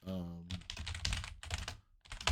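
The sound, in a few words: typing on a computer keyboard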